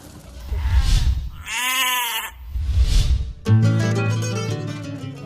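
Goats bleat loudly on a farm, several drawn-out wavering cries up close, one after another, with a deeper bleat near the end and low rustling farm background between calls.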